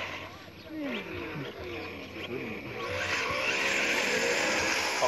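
A small RC car drives nearby, its motor whining up and down in pitch with quick revving sweeps, mixed with a steady background rush, while people talk over it.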